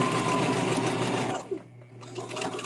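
A domestic sewing machine stitching at a fast steady whir, running continuously and then stopping abruptly, followed by quieter room noise.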